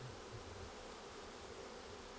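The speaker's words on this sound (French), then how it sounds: "Pour ramasser toutes les abeilles et prendre la reine si toutefois on l'a pas eu du premier coup." Honeybee colony buzzing steadily up close during a hive inspection, a dense continuous hum with no talk over it.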